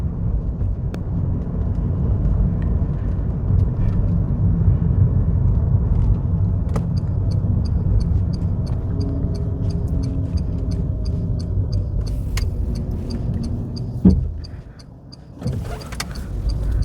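Renault Zoe electric car's low-speed pedestrian warning chord, a faint repeating high tone pulsing over steady road and cabin rumble while driving, fading toward the end.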